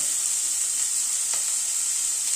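Finely chopped onions sauté in a pan over a high gas flame, giving a steady, close hiss of sizzling that holds evenly throughout with no talking.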